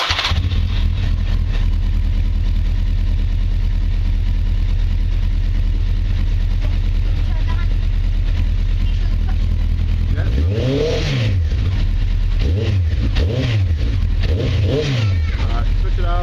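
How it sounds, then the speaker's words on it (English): A motorcycle engine runs loud and close at a steady idle, then gives several rising and falling revs near the end, with no talk over it. "Right, I'm going to start the bike to show you."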